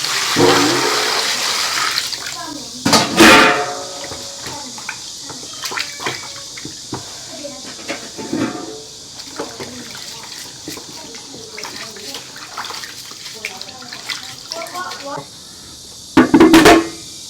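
Beef bones are washed under running tap water, a loud gushing stream pouring steadily at first, then quieter splashing and handling, with the flow surging strongly again near the end while people talk intermittently.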